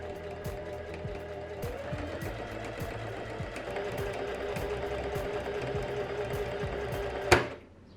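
A sewing machine stitches through layered corset fabric in a steady, rapid, even needle rhythm running continuously at close range, then stops with a sharp clunk near the end.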